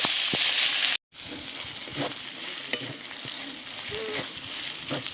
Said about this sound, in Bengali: আদা বাটা মশলাটাকে নেড়ে চেড়ে আমি আবারও বেশ সুন্দর করে কষে নেব